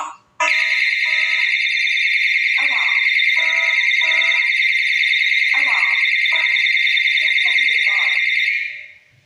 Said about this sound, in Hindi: हुटर, ये साउंड करता है।